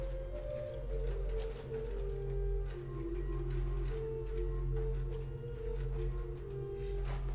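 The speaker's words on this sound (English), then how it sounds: "we've got some wonderful flutes on here as well, which is the Rohrflute, the Rohrflöte 8-foot." Rohrflöte 8-foot flute stop on the Hinsz pipe organ of the Bovenkerk in Kampen, Netherlands, sustaining soft steady chords and a slowly moving line, close and even, with no talking.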